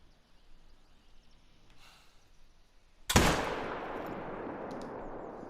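A single loud rifle shot at a whitetail buck in a hunting video game on the Revontuli coast, a sharp blast trailing into a long rolling echo that fills the rest of the moment after quiet ambience.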